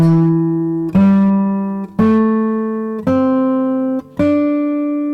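A Japanese scale in its second mode played as five separate sustained notes, each struck cleanly and ringing about a second before the next, stepping upward in pitch, loud and close with no talk.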